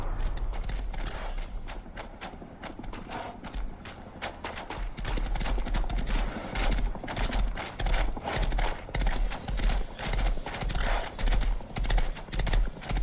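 Horse hooves galloping steadily in the video game Rust, a continuous rapid clip-clop rhythm that is loud and close, with a faint neigh blended into the thudding.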